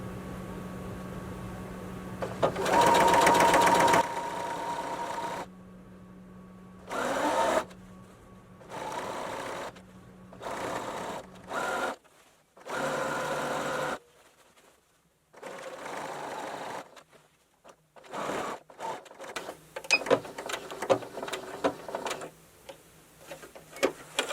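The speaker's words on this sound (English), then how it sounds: "I really, really like this sewing machine." A sewing machine stitching fabric for a one-piece tote bag, running in loud bursts of rapid mechanical whirring that start and stop repeatedly, with pauses and small clicks between runs, close up and without speech.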